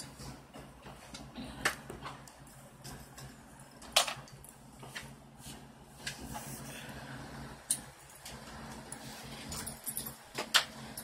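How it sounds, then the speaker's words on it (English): Several dogs and puppies play together, making soft scuffling, light clicks and occasional faint whimpers. The sounds are quiet and intermittent, with sharper bursts spread across about eleven seconds. "they're gonna get into it too. Oh, the puppies play."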